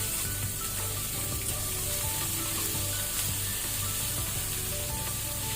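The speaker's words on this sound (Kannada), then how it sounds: "ಈಗ ನಾವು ಈರುಳ್ಳಿ ಹಾಕೋಣ" Onions added to cumin fry in a pan on low flame, giving a loud, steady, close sizzle with faint stirring scrapes for butter mushroom masala.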